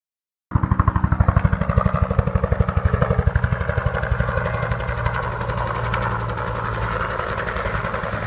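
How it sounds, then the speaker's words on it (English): Military helicopters fly over, their rotors producing a loud, rapid, steady chopping thud that starts abruptly and continues without pause, close and dominant with no voices. "it's always cool when you see the military helicopters coming through"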